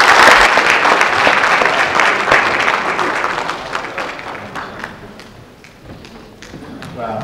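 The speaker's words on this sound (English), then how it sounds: "Can we have one more round of applause?" Audience applause fills a hall after a talk, a dense wash of many hands clapping that gradually thins and softens toward the end.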